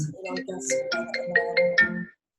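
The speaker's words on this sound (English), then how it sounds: "something is ringing" A phone ringing during a conversation: a short melodic ringtone of rising and repeating electronic tones, several quick notes in a row, clear and fairly close, ending abruptly.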